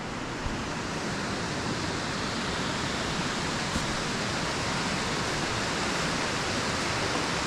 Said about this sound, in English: an aqueduct where the water's running underneath